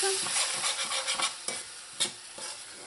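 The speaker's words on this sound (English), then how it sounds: "And add your tomatoes. Lower the heat." Tomatoes go into a hot pan of smoked herring for Trinidad-style cooking, giving a steady sizzle and frying hiss with a few stirring scrapes, close and moderately loud, no talk.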